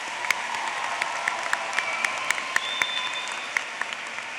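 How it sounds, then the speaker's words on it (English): Applause for graduates at a 2024 high school graduation ceremony, steady crowd clapping filling a large space at moderate distance, with a few sharper individual claps standing out. "Please give a round of applause for the graduates to celebrate their successes."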